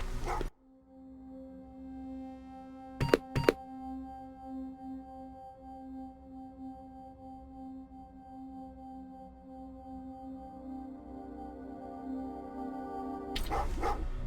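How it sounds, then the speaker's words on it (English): In-game dog barking from the shooter Terminator Resistance: two sharp barks near the start, then a steady droning ambient hum, with another burst of barking at the very end. "what's with the dog?"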